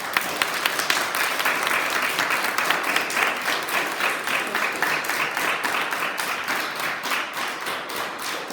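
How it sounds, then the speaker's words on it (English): An audience of children and staff at a school assembly claps steadily for several seconds, a dense patter of many hands at moderate distance, fairly even and then slowly thinning. "Let's give them a big clap."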